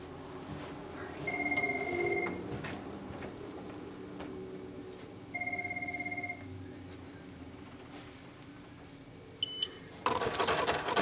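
An Eclipse credit card machine dials out while closing a credit batch. It gives short, steady beeping tones in two bursts, then a harsh, noisy burst of connection signal at the end, with no talk.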